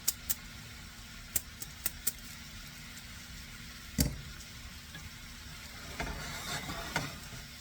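Italian sausage and spinach cook in a pan over a low flame, a soft steady sizzle broken by a few sharp clicks and a stirring scrape.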